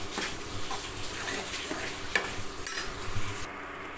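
A coconut and garlic paste sautés quietly in a pan for a snake gourd kootu, giving a soft, crackly sizzle broken by faint scraping stirs.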